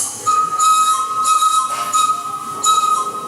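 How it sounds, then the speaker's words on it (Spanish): A steady, high whistle holds for about three seconds over a faint airy hiss, clear and unbroken, with no speech. "Oigo un silbido."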